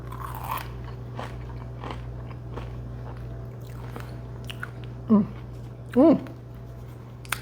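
A few crisp bites and crunches of roasted Brussels sprouts, followed by chewing, with two louder squeaky crunches near the end over a low steady hum.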